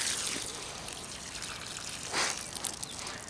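Water pours and trickles out of a drained drip irrigation line in a vegetable garden, a steady splashing dribble with a brief louder gush near the end, close by.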